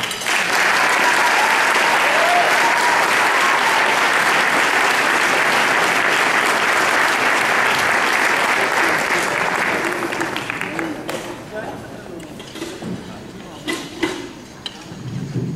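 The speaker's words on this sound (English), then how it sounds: "hearing all that applause makes me doubly glad I came." Sustained, dense audience applause welcoming a guest speaker at a formal event, loud and steady for about ten seconds before thinning into scattered claps and small room noises.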